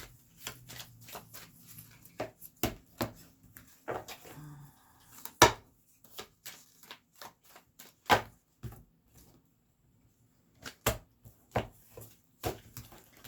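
Tarot cards are shuffled and laid out for a reading, giving close, crisp taps and riffling slaps in uneven bursts with a brief quiet gap partway through.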